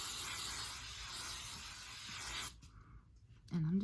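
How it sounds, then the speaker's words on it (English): A long continuous hiss of aerosol hairspray close by for a few seconds, then it stops and a voice begins speaking. "I'm using a lot of hairspray, and I do not care."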